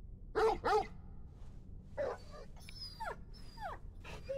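A dog in the video game Final Fantasy XVI barks twice sharply up close, then gives softer yips and whimpering whines over quiet game ambience.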